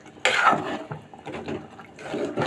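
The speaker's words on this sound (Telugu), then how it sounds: "ఇప్పుడు తగినంత వాటర్ అయితే వేసుకున్నామండి" Water tipped from a small tea glass into a pot of gongura mutton curry, a short splashing pour that starts abruptly, trickles on, then returns as a brief second splash, close and fairly clear.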